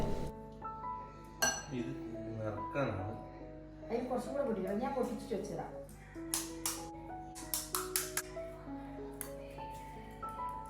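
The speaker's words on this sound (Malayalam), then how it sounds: "അപ്പം ഞാൻ ഒരു സ്റ്റിക്ക് എടുത്തിട്ട് ഇങ്ങനെ മുട്ടിയിട്ടാട്ടോ അത് ഓരോന്നും പൊട്ടിച്ച്" A stick taps crisp puri shells for dahi puri, cracking them one by one with light, sharp clinks in irregular bursts, faint and close, with someone talking throughout.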